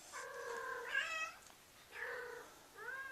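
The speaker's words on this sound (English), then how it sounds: "My cat Sally out there, my youngest." A young cat meows outdoors in three drawn-out, tonal calls with short gaps between them, fairly close over faint background noise.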